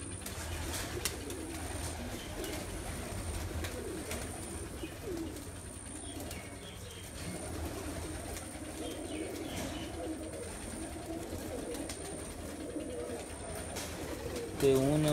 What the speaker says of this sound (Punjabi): ਤੇ ਹੁਣ ਲਾਸਟ ਉੱਪਰ ਕਿਹੜਾ ਕਬੂਤਰ ਬੈਠਾ